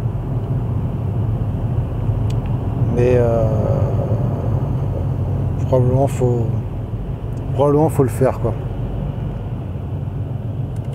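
Steady low rumble of a car interior while driving, a constant hum running through the whole stretch with a person speaking over it at intervals.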